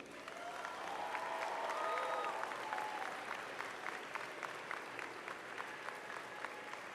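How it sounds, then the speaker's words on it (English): Graduating students at a university convocation ceremony applaud their families, friends, faculty and staff, a broad, distant crowd applause in a large hall with faint cheers, steady and fairly quiet. "I invite you, the members of the graduating class, to reciprocate by applauding your family, friends, faculty, and staff"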